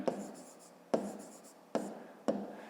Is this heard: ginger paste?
no